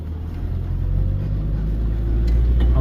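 A Land Rover 300Tdi off-roader drives up a hill track on Yarra Mountain, its diesel engine giving a steady, close, low rumble that swells slightly toward the end.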